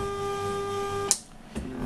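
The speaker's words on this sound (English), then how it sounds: "30 psi air pump pumping." A 30 psi air pump hums steadily and continuously, then cuts off with a sharp click followed by a softer thump, close and without talk.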